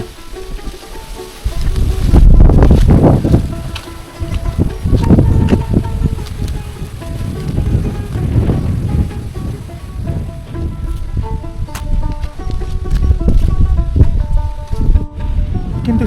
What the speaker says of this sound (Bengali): দারুণ বাতাস।